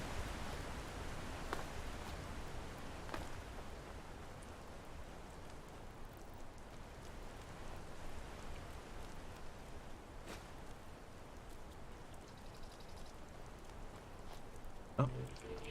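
Steady rushing water from a waterfall in the video game Enderal, a broad continuous wash of noise that stays even throughout, with a few faint clicks and no talking.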